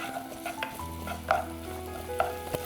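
Onions with added salt frying in a pan give a quiet, steady sizzle while being stirred, with soft scraping and a few light clinks of the spoon against the pan.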